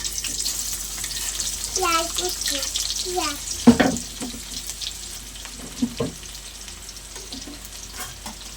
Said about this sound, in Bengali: আমি এবার ওই মাছ ভাজা তেলের মধ্যে দিয়ে দেবো পেঁয়াজ কুচি,